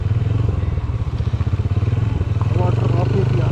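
A motorcycle rides an offroad mountain road in Kashmir, its engine a close, steady, throbbing pulse with clattering bumps, while someone talks over it throughout.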